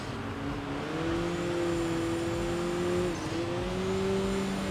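Race car engine in the Enthusia Professional Racing video game, a Turbo R likened to a Porsche, droning and revving steadily with rising pitch, a brief dip at a gear change, continuous and fairly loud.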